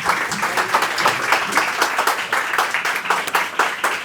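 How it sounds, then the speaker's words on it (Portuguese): Applause from an audience at a talk on building an AI agent, a dense burst of many hands clapping steadily and fairly close, without speech. "Uma salva de palmas para a Miriam, gente."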